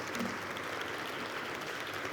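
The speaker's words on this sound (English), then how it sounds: "I would like to ask everybody just to give all our panelists another round of applause" Conference audience gives the panelists a round of applause, a steady, fairly soft wash of many hands clapping without speech.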